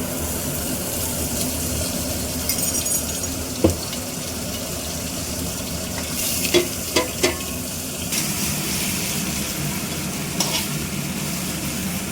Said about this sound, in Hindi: अब इसको मसाले के साथ भूनेंगे।